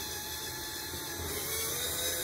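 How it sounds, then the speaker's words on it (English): A power drill whines steadily and close while driving a plastic anchor into drywall, a continuous high-pitched motor tone that swells slightly louder toward the end, with no talking. "So just drill it into the wall."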